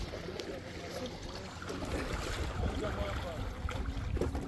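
A small local boat pushes off onto the water off a Zanzibar beach, with a steady wash of water and wind noise. Faint voices sit in the background.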